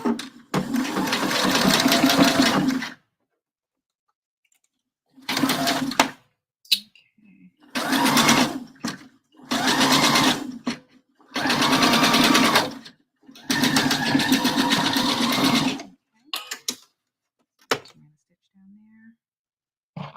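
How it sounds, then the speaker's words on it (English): A sewing machine sews permanent stitches along a bra, running in about seven loud bursts of a few seconds each, separated by brief silences and a few short taps. "So now I'm going to run permanent stitches, tracing the stitches I just created."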